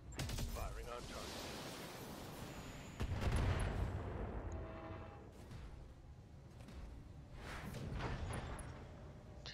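Heavy mech weapons fire in the Battletech video game, with booming autocannon and missile blasts landing in several bursts, some sharp and some long rolling rumbles, over a constant low battlefield drone.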